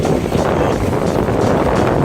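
Steady, loud wind roaring and buffeting against the microphone outdoors on the Wellington, New Zealand waterfront, a continuous low rumble with no speech.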